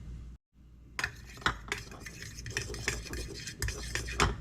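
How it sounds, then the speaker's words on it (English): A spoon stirs onion powder, garlic powder, salt and pepper together in a bowl, giving close scraping and clinking strokes after a brief silence. "And now we're just gonna mix that together."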